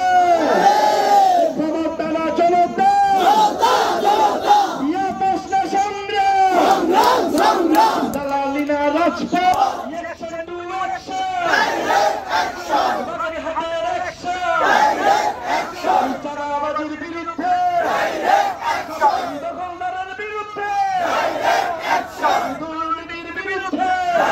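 A large crowd at a political rally chants slogans in loud unison, with rhythmic shouted phrases and cheering voices that rise and fall continuously throughout.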